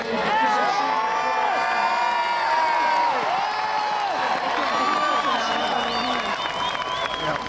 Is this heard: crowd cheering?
yes